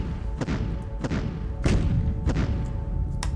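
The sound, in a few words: artillery bombardment in Decisive Campaigns: Ardennes Offensive video game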